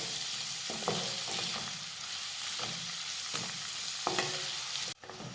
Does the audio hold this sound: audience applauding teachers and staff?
no